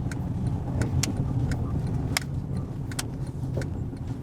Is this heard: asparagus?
no